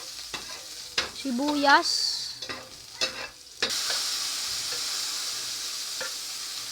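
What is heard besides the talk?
garlic frying in a hot pan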